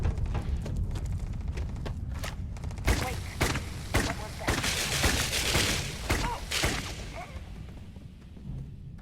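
Rapid volleys of close-range gunfire from an odd weapon in the video game Starfield, sharp repeated shots in irregular bursts mixed with game effects, with voices talking over them.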